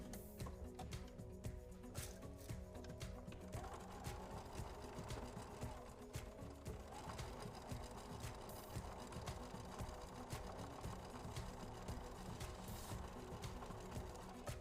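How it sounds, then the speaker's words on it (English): A sewing machine stitching fabric runs steadily, its rapid needle chatter humming continuously at moderate volume, with no one speaking. "I'm gonna bring some over here to my sewing machine"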